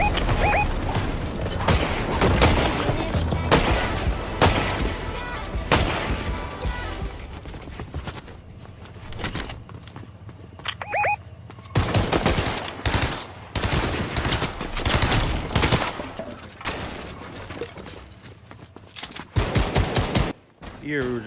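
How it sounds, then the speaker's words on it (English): Bursts of gunfire from Fortnite crackle in dense volleys with sharp single shots between, pausing briefly midway before heavy firing resumes, while players talk now and then. "I start hearing shooting when I go outside and I start seeing that there's enemies"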